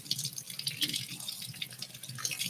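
Cold water runs from a kitchen tap while kuku sabzi is being made, a steady close splashing and trickling stream with small drips throughout.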